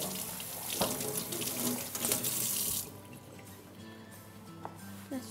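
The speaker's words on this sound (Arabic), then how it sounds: "اغسل يديك" A tap runs into a sink as hands are washed in a home kitchen, a steady loud splashing rush for about three seconds before easing to a softer trickle with a few drips, with a voice speaking nearby.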